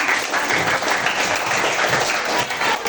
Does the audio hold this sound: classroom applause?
yes